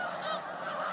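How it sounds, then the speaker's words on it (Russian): Snow geese honk continuously from a large flock, a dense overlapping chorus of calls that sounds fairly distant and steady, with no voices over it. "Это все гуси."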